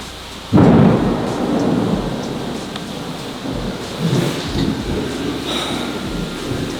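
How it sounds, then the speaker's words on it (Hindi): Heavy rain pours steadily while deep thunder rumbles loudly, with a sudden strong crack near the start and further rolling booms later. "बिजली बहुत गरज रही है"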